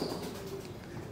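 Pigeons coo softly in a loft housing old racing birds, a low steady murmur running through the short stretch without any talk over it.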